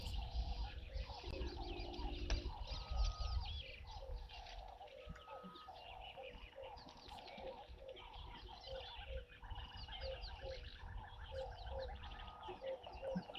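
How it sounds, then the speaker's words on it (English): A green wood hoopoe calls at a waterhole amid a dense outdoor bird chorus, with repeated cooing and chirping, faint and distant, and steady ambient noise throughout. "So we've got a wood hoopoo that's calling."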